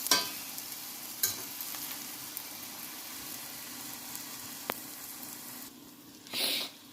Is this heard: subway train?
no